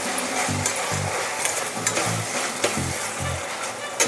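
Ginger garlic paste fries in a pan for mushroom biryani, with a steady sizzle throughout and a regular rhythm of close spoon strokes scraping the pan about twice a second, no voices.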